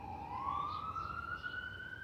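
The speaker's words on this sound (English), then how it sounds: "as the ambulances go by" A siren wails nearby, its single rising tone sweeping upward over a low rumble of traffic.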